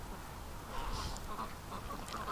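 A duck, one of several being hatched and raised from eggs, gives a few faint, nasal quacks against steady background noise.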